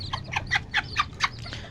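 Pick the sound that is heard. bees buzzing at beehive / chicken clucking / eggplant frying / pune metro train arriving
chicken clucking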